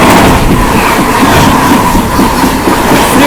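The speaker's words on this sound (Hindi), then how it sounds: "सामने से आ रही है बनारस नई Delhi Shiv Ganga superfast express flat 130।" The Varanasi–New Delhi Shiv Ganga Superfast Express passenger train thunders past at close range at about 130 km/h, a loud, steady roar of wheels and rushing carriages filling the whole stretch.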